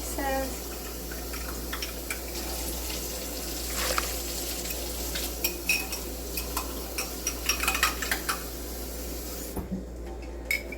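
Bouillon being stirred into water in a cup with a spoon, giving a run of light clinks and scrapes that grow busier toward the end, over a steady low hum of room noise.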